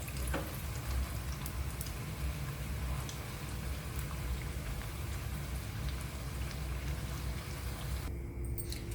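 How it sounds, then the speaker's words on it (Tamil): Thattai, a crisp rice-flour snack, sizzles steadily in hot oil with a dense, even crackle that runs unbroken for the whole stretch, close and moderately loud. "அந்த சலசலப்பு நின்னதும் எடுங்க"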